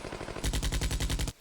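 Rapid bursts of automatic gunfire from a squad firing in a Vietnam War strategy game, loud, dense and rhythmic, running steadily for over a second before cutting off abruptly.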